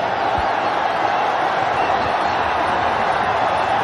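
Cricket crowd in a packed stadium at an India v Australia T20 match, a dense, loud roar of cheering held steady throughout after a wicket falls.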